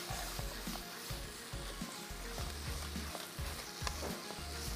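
Carrots frying and being stirred in a pan, a steady close sizzle with repeated scraping and stirring strokes, no talking.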